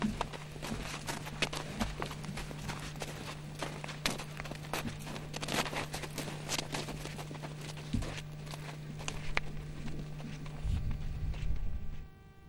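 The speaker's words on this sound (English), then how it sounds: "This healthy cow has a normal, even gait as she walks along the pavement." A healthy cow walks along pavement with a normal, even gait, her hooves making a steady run of soft, regular clops over a low background hum.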